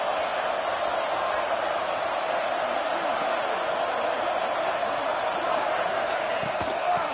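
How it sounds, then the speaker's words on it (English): Loud, steady roar of a fired-up stadium crowd in a college football video game, a constant wash of cheering with a few sharper bursts near the end. "It's early, but this crowd is fired up. Listen to this noise here."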